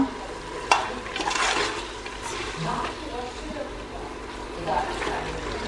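Carrots, beans and peas stirred with a spatula in a hot pan for vegetable pulao, a steady sizzle under scraping strokes and one sharp clack near the start, close and fairly loud.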